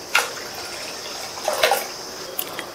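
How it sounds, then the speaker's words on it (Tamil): Half a cup of water poured into cooked lentils in a pan, giving a few brief splashing gushes with quiet gaps between them, close and without voices. "சேர்த்துட்டு இது கூட 1/2 கப் தண்ணி சேர்த்துக்கலாம்."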